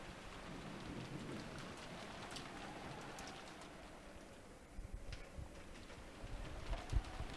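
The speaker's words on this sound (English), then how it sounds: "disappeared beneath the sound of the rain." Steady rain sound effect in a visual novel, a constant hiss of falling rain with low rumbling thunder rolling underneath and a few sharper spikes near the end.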